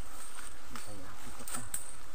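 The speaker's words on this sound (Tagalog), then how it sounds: "Iparan na sila mga kahani yung pukyutan." Honey bees swarming out of a hive as smoke drives them off, a faint diffuse insect buzz and hum outdoors, with brief sharper bursts and rustling, no talk.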